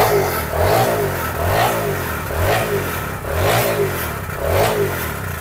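A Barako 175 motorcycle engine runs close and loud, revving up and down in about five regular surges with a rough, clattering exhaust note between them.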